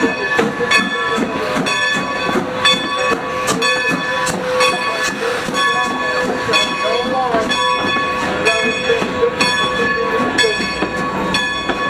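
A Strasburg Railroad train at the station runs steadily with rhythmic rail clatter, metallic clicks and tonal hum throughout, while people talk in the background.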